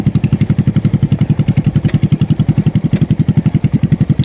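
A motorcycle engine chugs steadily at low speed during a riding lesson, a rapid, even pulsing thump that stays close and loud throughout without pause.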